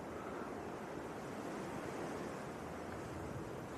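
Strong crosswind at Leeds Bradford Airport, a steady loud roar buffeting the microphone, unbroken and without voices.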